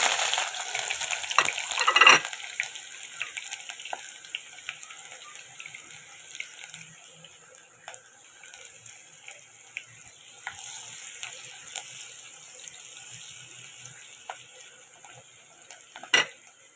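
Chopped onion fries in oil in a pot on the stove, giving a steady, soft sizzling hiss with occasional brief clinks and stirring sounds, close and moderately loud throughout, without speech.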